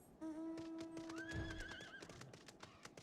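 A horse mount in Final Fantasy XIV gives a clear, close whinny lasting over a second, with quick hoof clip-clops tapping before and after it at low volume.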